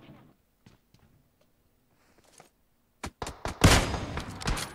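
Gunshots in the mobile battle-royale game PUBG Mobile on the Erangel map: after near silence, a sudden cluster of sharp bursts and rapid reports erupts, loud and close, continuing to the end.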